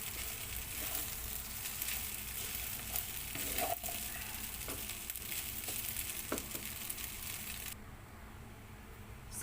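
Pancit palabok rice noodles being stir-fried in a pan, a steady close sizzle with scraping and tossing sounds throughout, easing off near the end.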